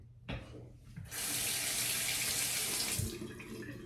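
A tap turns on after a few soft clunks and runs steadily for face washing, a close, loud gush of water splashing into a sink that eases slightly near the end.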